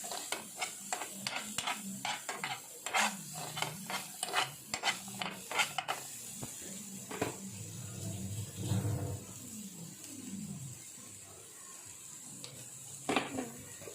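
Finely chopped cabbage gets stirred in a pan with capsicum and chilli powder, a series of soft, close scraping and rustling strokes over a faint sizzle, with quieter pauses between bursts.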